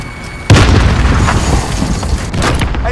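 A frag grenade goes off in Call of Duty: Modern Warfare: one sudden loud boom after a brief quiet moment, followed by a rumbling, crackling tail of debris and echo.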